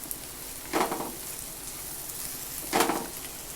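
Spicy mutton chukka varuval fries in a pan with a bunch of curry leaves, a soft continuous sizzle broken by two distinct stirring scrapes, close and alone without any talk.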